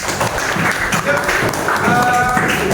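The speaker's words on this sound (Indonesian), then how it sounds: "Tepuk tangan buat kita semua" A class claps hands together at the close of a lesson, a dense, steady patter of many hands running throughout, with voices and chatter mixed in underneath.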